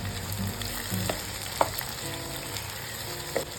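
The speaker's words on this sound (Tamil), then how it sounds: "இதில் நான் இன்னொரு 1/2 டீஸ்பூன் உப்பு சேர்த்து வெங்காயம் பொன்னிறமாக ஆகிற வரைக்கும் வதக்கி விட்டுக்கிறேன்" Steady sizzling of onions frying in hot oil with salt for chicken dum biryani, with a few soft clinks of a spoon stirring the pan.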